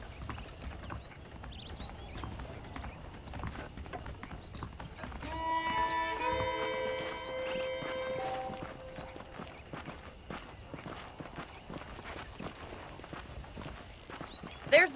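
Horse hooves clip-clop at a walking pace in the Red Dead Redemption western video game on Xbox One, the steady thuds mixed with game ambience and a brief musical chime in the middle.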